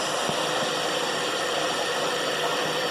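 A 2008 Dodge Caliber's 2-liter engine runs steadily with an unidentified pulley noise, a constant loud mechanical whir and hum heard up close without pause.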